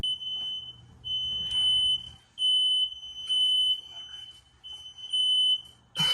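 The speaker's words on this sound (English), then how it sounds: "he is woken up abruptly to the sound of the fire alarm" A smoke-style fire alarm sounds in a house at night, shrill piercing beeps repeating in long on-off bursts, with a low hum early on and a sharp knock at the end.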